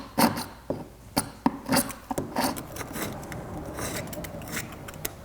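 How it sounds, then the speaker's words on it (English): Scraper rasping paint and caulk off a damaged wooden interior window sill, a series of short sharp scrapes followed by rougher continuous rubbing, close up with no voice. "I could probably try and scrape some of this paint and caulking off of here."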